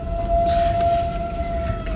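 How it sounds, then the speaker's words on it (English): A tornado siren in Sherman, New York wails during a winter lake-effect storm, a steady sustained tone heard at a distance under wind noise. "We have a legit tornado siren going off in Sherman"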